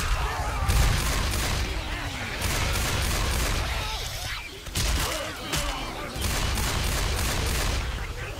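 Rapid automatic gunfire from the zombie shooter Left 4 Dead 2 rattles in dense, loud bursts with brief gaps, nearly continuous over the whole stretch.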